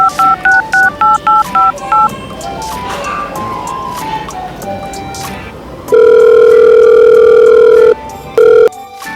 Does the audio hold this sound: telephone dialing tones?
yes